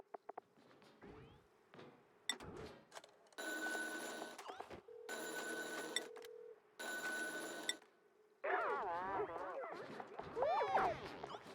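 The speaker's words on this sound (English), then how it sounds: "Listen to him chatting on the phone." A telephone in the colony game Oxygen Not Included rings in three long electronic trilling bursts, set among chirpy cartoon gibberish chatter and small game effects, fairly quiet overall.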